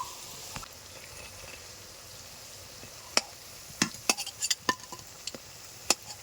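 Pieces of egg and potato fry slowly in oil over low heat for a chatpati dish. A soft, steady sizzle sits underneath while sharper pops and stirring clicks crackle irregularly, growing busier toward the end.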